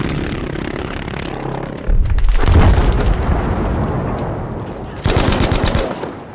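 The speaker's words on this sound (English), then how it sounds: "the devastating blast of a V1 rocket" A V1 rocket blast in the Battlefield 5 video game: loud, dense rumbling explosions with a heavy low boom near two seconds and another strong burst near five seconds, amid continuous battle noise.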